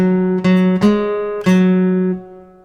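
Guitar picks out a walking bass line in a blues shuffle in E, four plucked low notes ringing clearly and close with steady rhythm, no talking.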